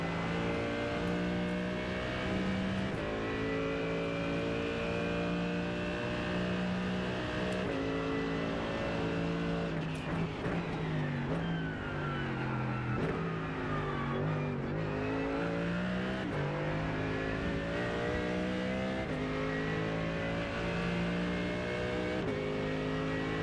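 A race car laps Canadian Tire Motorsport Park with its engine heard from onboard, loud and continuous, the pitch climbing steadily through the gears and dropping briefly with a light brake before the throttle comes back on.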